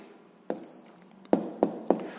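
Writing down an answer by hand on paper: faint scratching strokes with a few sharper taps as the pen touches down, close and quiet, no talking.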